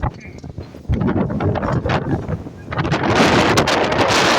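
Strong wind in an Idaho dust storm roars and buffets the microphone continuously, growing louder and harsher toward the end as gusts intensify, with a voice briefly heard under the blowing.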